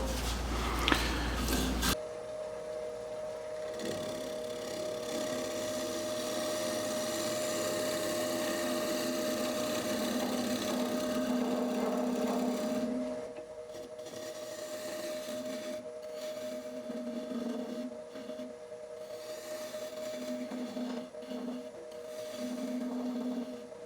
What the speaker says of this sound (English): so I'm just going to take the scraper and clean that right out